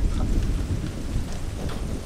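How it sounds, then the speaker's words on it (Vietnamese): Heavy rain pours steadily outdoors in a rural field with rumbling thunder underneath, a dense, continuous wash of sound close by with no voices. "Bữa nay nãy giờ á trời mà chuyển mưa á, chuyển mưa lớn lắm."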